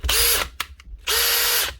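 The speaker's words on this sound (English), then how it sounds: "Put it onto low speed and in drill mode." A power drill on low speed in drill mode runs in two steady whirring bursts, loud and close, with brief clicks in the pause between them.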